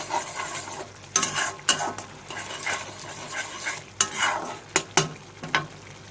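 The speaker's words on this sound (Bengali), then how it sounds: "দিয়ে নাড়িয়ে চাড়িয়ে নেব যত টানবে যত কষবে শাক তত ফুলবে" Greens frying in a pan while being stirred, with a steady sizzle broken by repeated sharp scrapes and knocks of the spatula against the pan at an irregular pace, close and fairly loud.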